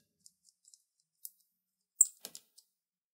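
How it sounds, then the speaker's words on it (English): Small, sparse clicks and light metallic ticks come from a screwdriver loosening the screws that secure the keyboard of a Lenovo P52 laptop, quiet and close with brief gaps between them. "Loosen the screws that secure the keyboard."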